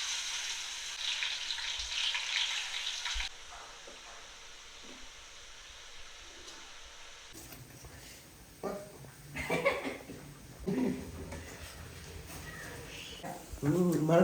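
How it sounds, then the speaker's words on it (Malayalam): Marinated fish fries in hot oil with a steady sizzle, interrupted by a quieter stretch and clattering handling sounds near the end. "തിളച്ച് വരുമ്പോൾ നമ്മൾ മാരിനേറ്റ് ചെയ്ത് വെച്ചിരിക്കുന്ന ഫിഷ് ഫ്രൈ ചെയ്തെടുക്കണം"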